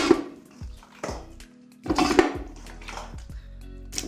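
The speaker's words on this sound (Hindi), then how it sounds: "अब इस गोश्त को मैंने डालना है इस पतीले में।" Three kilograms of camel meat go into a metal cooking pot, heard as several close, wet thuds and clanks of pieces dropping in, with ringing metal resonance between the hits.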